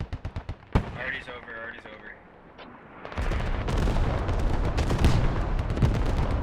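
Booming artillery fire in a military combat video game, with a heavy barrage of blasts and rumbling impacts that swells into a dense, continuous roar, while someone talks over the opening explosions.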